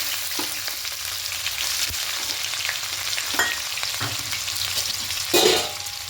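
Sliced onion frying in oil with whole garam masala, cinnamon, cardamom, cloves and bay leaves, for chicken keema pulao, a continuous close sizzle with occasional scrapes and clinks of a stirring spoon.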